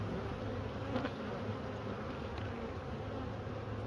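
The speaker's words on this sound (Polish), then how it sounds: "pszczoły nie za szczęśliwe, ale jest ładna ramka czerwiu" Honey bees swarm around an opened beehive during a frame inspection, a dense, steady buzzing hum that stays close and constant throughout, with no talking.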